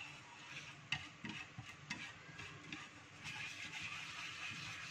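Cashew nuts heating in cashew oil over high heat on a home stove, a faint, steady bubbling sizzle with scattered small pops and light clicks throughout, close and low in level.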